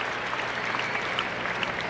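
Steady applause and cheering from a crowd at a 1978 World TeamTennis match between the Sun Belt Nets and the Anaheim Oranges, a dense, continuous clatter of clapping that fills the space without pause.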